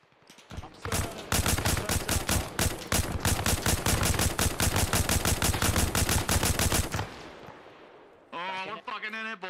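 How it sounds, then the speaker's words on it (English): Sustained automatic gunfire in the video game Arma Reforger during a Russian base attack, a long rapid burst of loud cracks for several seconds, then a pause and a shorter volley of shots snapping past. "I got so many bullets flying over my head."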